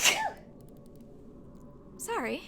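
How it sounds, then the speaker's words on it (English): A single sharp sneeze bursts out at the start, close and loud, during a playthrough of the horror game Fatal Frame 5, followed by quiet room tone and a brief spoken apology near the end. "Oh, I need to sneeze."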